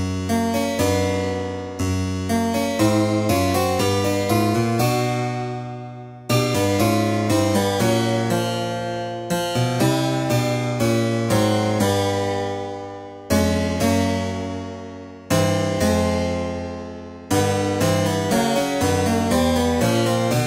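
Music in 52 equal divisions of the octave, built from a generator of about 115.4 cents, plays a plucked, chime-like sequence of sustained tones. Notes restart in repeated phrases, each decaying gradually, with no voices.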